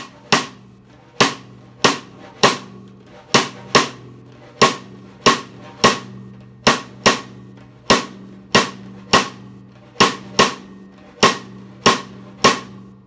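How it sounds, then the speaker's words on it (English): A 2-3 son clave pattern is played on a drum's cross stick as sharp, dry clicks, evenly spaced in repeating groups of three and two, loud and close with nothing else heard. "I'm going to go ahead and play the 2-3 son clave on the cross stick"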